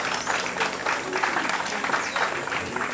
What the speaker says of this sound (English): that itself deserves a round of applause.